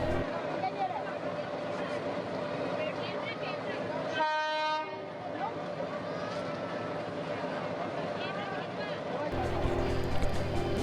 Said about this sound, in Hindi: ट्रेन चढ़ाई को चढ़ती हुई 2 लोकोमोटिव के साथ आ रही थी।